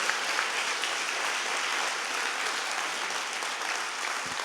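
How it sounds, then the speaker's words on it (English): A theater audience at a live conversation event gives a sustained round of applause for the guest, a dense, even wash of clapping from many hands that holds at a steady level throughout. "George Will, everybody, how about a nice round of applause?"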